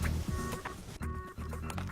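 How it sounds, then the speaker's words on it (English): A rooster calls out in short, repeated clucking bursts close by in a grassy field in Hendricks, Minnesota, loud and uneven, broken by brief pauses. "Rooster!"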